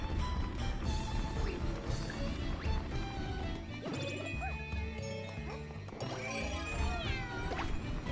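A cat meows in Super Mario 3D World, its short cries rising above busy, loud game music with crashes and thwacks; no one talks.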